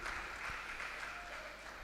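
Audience applause at a Hindi kavi sammelan in Lucknow, a quiet, steady wash of clapping heard from a distance, sustained without clear breaks.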